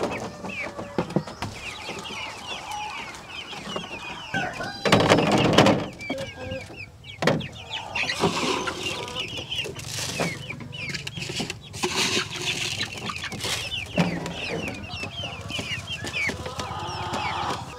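Chickens cluck and chatter in a chicken house, where pullets, broilers and layers are being fed, with a continuous busy flock sound and a few louder rustles and bumps, and a person speaks briefly.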